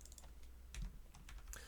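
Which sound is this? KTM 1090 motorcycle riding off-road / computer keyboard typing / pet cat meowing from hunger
computer keyboard typing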